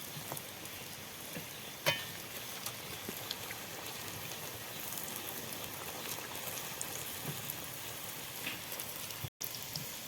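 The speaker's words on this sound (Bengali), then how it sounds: "এটা ডুবা তেলে ভাজতে হবে" Cream rolls deep frying in hot oil, a steady dense crackling sizzle with scattered small pops, continuous and close throughout.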